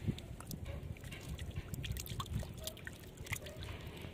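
Seawater trickles and drips steadily as a handful of freshly gathered sea snails is rinsed on the shore, a soft, close, continuous dribbling with small splashes.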